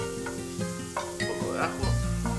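A little onion sizzles steadily as it fries in a pan while being pressed down, a constant close hiss with light scraping and a few soft knocks.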